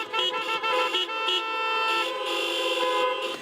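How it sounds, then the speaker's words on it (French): Many car horns honk together at the end of a drive-in Catholic mass in France, overlapping long and short blasts forming a loud, continuous chorus from several vehicles nearby. "À la fin de la messe, c'est un concert de klaxons qui plébiscite l'initiative."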